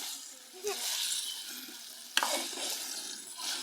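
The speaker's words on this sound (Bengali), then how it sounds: "হাঁসের মাংস রান্না চলছে" Duck meat sizzles in a pot at an outdoor picnic cook-up, with a spatula stirring and scraping through the steady frying noise and a faint voice briefly in the background.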